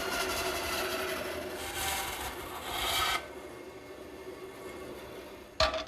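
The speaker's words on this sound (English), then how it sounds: "So I've established a fence at my bandsaw, and the first thing I want to do is make the rip cut." A bandsaw rips lengthwise through a wooden greenhouse rafter against a fence, giving a steady rasping, grinding cut for about three seconds, then a quieter running hum with a brief sharp knock near the end.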